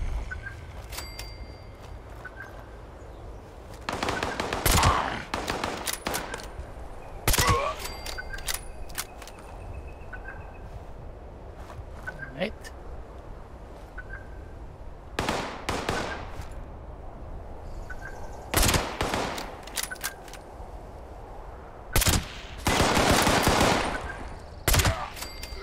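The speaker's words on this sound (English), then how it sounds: "you were shooting at something down there" Gunfire in Fallout 76 comes in short rapid bursts and single cracks, fairly distant and faint, repeating irregularly over a quiet ambient background.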